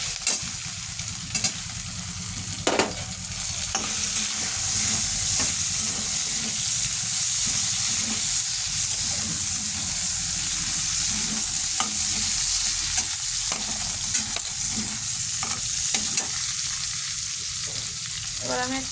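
Chopped tomatoes frying with potato, cauliflower and peas for a home-style vegetarian masala, a continuous close sizzle with repeated spatula scrapes and clinks as the pan is stirred, no talking.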